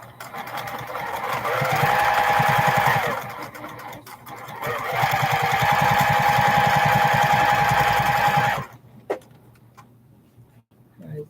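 Sewing machine stitching 4-inch quilt blocks, running in two long bursts of steady rapid clatter with a pause between, then stopping with a few handling clicks; a voice talks quietly in the background.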